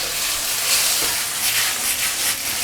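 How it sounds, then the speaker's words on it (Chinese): Diced chicken breast stir-fried in oil in a non-stick pan over the highest heat gives a steady, bright sizzling hiss, with faint scraping from stirring rising and falling throughout. "锅烧热之后呢，接下来我们下入这个鸡丁，先给它滑炒一下"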